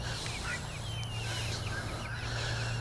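Poultry at a chicken tractor call out in repeated gobbling, clucking bursts over a steady low hum, heard from some distance at moderate loudness with no talking.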